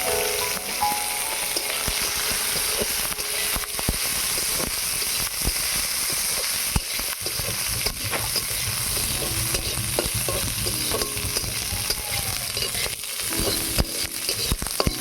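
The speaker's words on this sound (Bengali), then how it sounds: "ঘি দিয়ে দিলাম। এবারে ভেজে নেব কাজু, কিশমিশ আর ভেজে নেব" Cashews, raisins and almonds fry in ghee in a pan with a steady, close sizzle and the occasional stirring scrape, and no one speaks.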